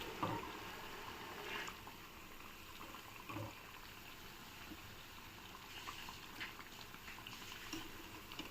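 Minapa vada, urad lentil fritters, frying in hot oil, a soft continuous sizzle and bubbling heard up close and fairly quietly, with no talking.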